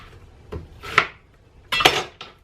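Two sharp knife chops through an onion on a cutting board, a single hit then a quicker double strike about a second later, close and crisp.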